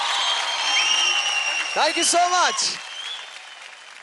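Applause from a studio audience on a TV dance show, broad clapping that fades out while a voice speaks briefly over it.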